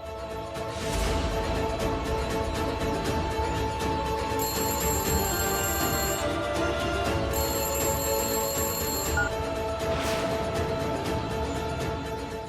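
A telephone rings repeatedly in bursts over a busy musical background, loud and close, with no one speaking.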